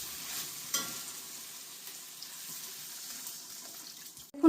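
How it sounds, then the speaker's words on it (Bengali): Water is poured into a pan of snakehead fish and chicken curry frying in spices, a hissing sizzle with a watery gush that settles to steady bubbling and ends in a sharp knock. "এখন দিয়ে দেব জল।"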